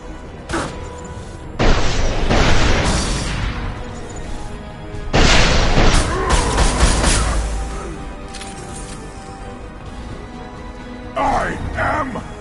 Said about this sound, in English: A misplaced shot could cause a significant explosion